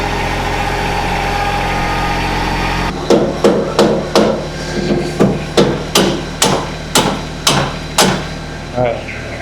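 Sharp metal hammer blows strike tractor parts while a new WoodMaxx chipper is set up on a ranch, about a dozen loud, close strikes in an uneven rhythm over a steady idling engine.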